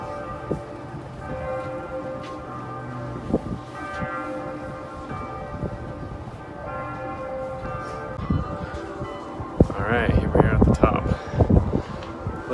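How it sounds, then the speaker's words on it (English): Church bells ring in a tower in Bruges, Belgium, with sustained, overlapping tones, joined later by loud gusty rumbling and close handling noise. "Some of the other bells."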